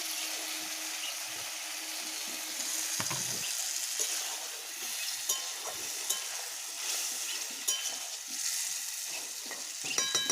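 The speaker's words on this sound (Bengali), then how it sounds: "এবার ডিমগুলো দিয়ে দেব। আর একটু জল দেব।" Duck eggs and a splash of water go into a frying curry, bringing steady sizzling and bubbling with stirring and occasional utensil clinks close by, no talking.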